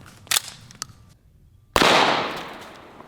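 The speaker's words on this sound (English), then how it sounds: "I've got 2 watermelons, and we'll try 2 different slugs and see which one does better." A shotgun fires an S.O.B. slug into a watermelon outdoors: a few small clicks and taps, a brief silence, then one sharp loud blast whose echo decays slowly over the next second or so.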